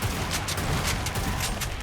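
Killing Floor 2 Frost Fang shotgun firing repeatedly: a rapid series of sharp, close gunshot cracks over a constant low, rumbling combat din, loud throughout with no speech.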